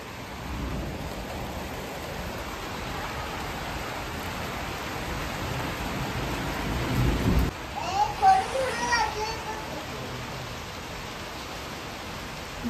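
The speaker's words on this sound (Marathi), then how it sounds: "जोरातच पाऊस लागला." Heavy monsoon-style rain pours down in a dense, steady hiss, with a deep low rumble underneath in the first half; a brief patch of muffled voices and clatter breaks through near the end.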